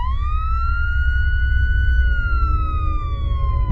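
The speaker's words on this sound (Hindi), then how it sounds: "तभी वहाँ पर पुलिस की सायरन की आवाज आने लगती है।" A police siren in a cartoon, used as a mobile ringtone, sounds as a single clear tone that rises, holds, and slowly falls again, loud and close with nothing else over it.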